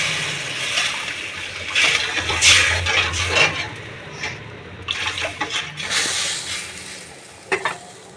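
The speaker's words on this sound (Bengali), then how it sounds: "এবার জল দিয়ে দেবো।" Water poured into a hot cooking pot in a home kitchen, sizzling and splashing in bursts with stirring scrapes and brief gurgles, fairly close and loud, with no voices.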